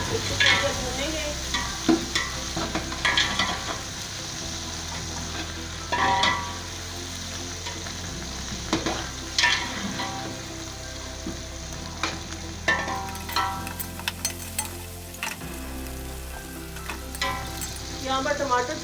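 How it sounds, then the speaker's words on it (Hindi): Tomatoes and green chilies fry in a pan for chana pulao, giving a steady close sizzle with recurring scrapes and clatters of a spoon stirring against the pan throughout. "अब हम इसमें ये टमाटर हैं ये डाल देंगे। तब मिर्च डालेंगे, इसको थोड़ी देर भूनेंगे।"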